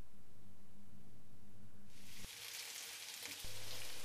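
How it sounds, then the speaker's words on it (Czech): Onion and apple pieces frying in oil in a pan, a steady sizzle that turns louder and hissier about halfway through as more is added, close and alone without voices. "Oloupem, nakrájíme, nemusíme úplně najemno a smažíme na oleji."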